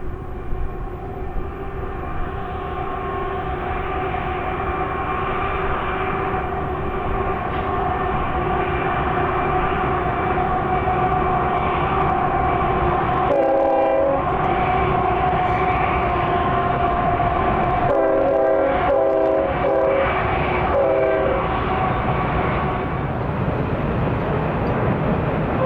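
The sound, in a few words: southbound freight manifest train passing with horn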